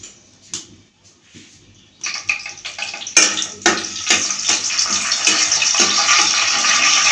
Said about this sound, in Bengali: এখন আমি যে মশলাগুলো দিয়ে দিচ্ছি, তেজপাতা, দারচিনি, এলাচি,